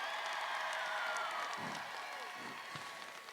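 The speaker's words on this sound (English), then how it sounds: "If you wanna give a cheer when they are named, please do." An outdoor rally crowd at an abortion access march in Orlando cheers and applauds for a named city commissioner, a sustained wash of distant clapping and whoops that slowly fades, with a voice breaking in near the end.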